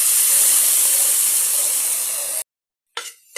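Stock poured into a hot pan of browning spices and oil for adobong kangkong, a loud steady sizzling hiss that cuts off abruptly, then a brief second hiss.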